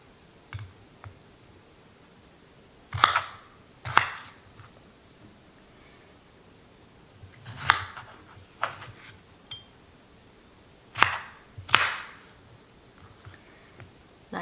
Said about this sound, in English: So I already sliced those, you see, and I want to cut them in the cube form.